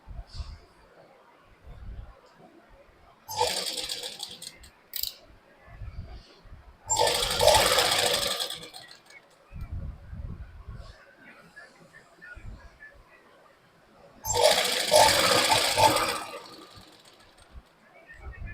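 A domestic sewing machine stitches cloth for a salwar in short bursts of whirring, three main runs separated by pauses, with someone talking quietly in between.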